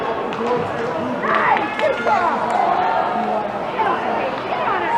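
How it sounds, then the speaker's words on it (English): Busy crowd noise fills an ice arena at a girls' high school hockey playoff game, voices shouting and chattering over one another with skates and stick clatter underneath, loud and continuous. "Great crowd here at Warrior Arena in Brighton, making lots of noise."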